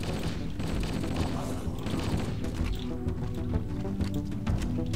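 Dense, continuous machine gun fire in Halo 1 rattles throughout, layered with game-like effects and a busy background, loud and sustained without pause.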